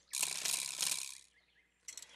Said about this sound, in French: ou bien jouer de la crécelle